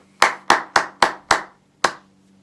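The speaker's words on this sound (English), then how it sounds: "If we were clapping it, it would be" Hands clap a simple rhythm during a beginner music lesson: five sharp, evenly spaced claps, a pause, then one more, close and clear against a quiet room.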